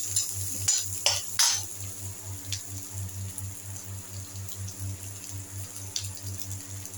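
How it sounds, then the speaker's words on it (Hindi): Onions fry in a pan with a quiet, continuous sizzle under a low rhythmic hum, with a few clinks and scrapes of a spoon early on; no talking. "अब इधर देखिए प्याज भून रहा है"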